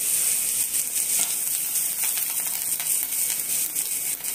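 Curry leaves sautéing in a pan for a goat brain and duck egg fry, a dense, steady hiss of frying held close and loud, with no voices.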